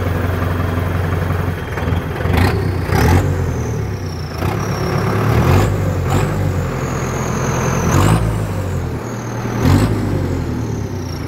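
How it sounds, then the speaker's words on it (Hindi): A modified Sonalika DI750 tractor engine runs with a loud, steady diesel chug, heard up close, with repeated sharp bursts and revving surges through the run. "आवाज है ट्रैक्टर की, मॉडिफाई हो रहा है।"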